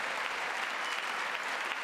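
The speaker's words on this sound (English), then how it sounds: "McCarthy, how come you're not clapping to that?" Applause fills the chamber at a State of the Union address: a continuous, even wash of many hands clapping, steady and sustained throughout with no break.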